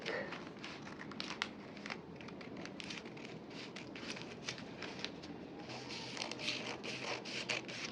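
Scissors cut through a paper sleeve pattern in a steady run of crisp snips and crinkling rustles, close up and continuous, with the paper rattling between cuts.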